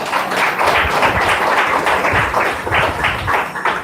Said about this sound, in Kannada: ಒಂದ್ಸಲ ಶಿವಬಾಬರವರಿಗೆ ಚಪ್ಪಾಳೆ ಹಾಕಿಲ್ಲ